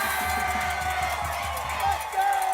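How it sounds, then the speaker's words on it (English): Fans of a high school football team cheer and shout on game day, a loud, dense crowd roar throughout with whoops rising near the end, while a voice talks over it. "Listen to this crowd back here. The Fairview fans right here."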